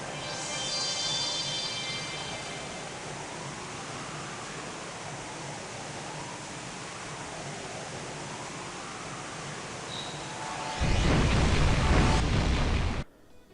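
An underwater detonation of the Crimson Flame in The Legend of Heroes IV game: a long, steady, rushing roar that swells into a louder, dense burst near the end before cutting off abruptly.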